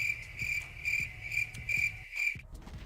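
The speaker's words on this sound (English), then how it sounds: "Then we have crickets." Crickets chirp as a sound effect, a steady high trilling pulsing in regular bursts, fairly quiet and with no talk, cutting off abruptly near the end.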